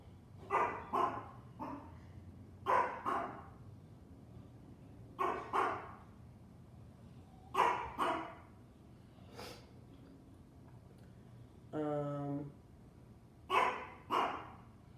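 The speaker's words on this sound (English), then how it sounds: "These dogs are really barking today." Dogs barking outdoors in repeated pairs and short bursts, fairly distant and spaced through the stretch, with one drawn-out yelp near the end against a quiet background.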